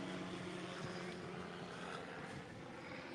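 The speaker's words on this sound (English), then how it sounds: "It's a helicopter overhead." A helicopter passes overhead outside among hotels, a steady broadband rotor and engine rumble with a low droning hum that holds fairly constant and loud throughout.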